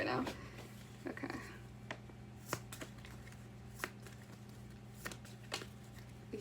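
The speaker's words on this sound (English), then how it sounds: "Let's shuffle this one more time." Tarot cards being shuffled by hand make soft riffling and repeated taps, fairly quiet and close, with a voice talking low in the background.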